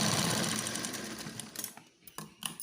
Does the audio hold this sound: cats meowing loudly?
no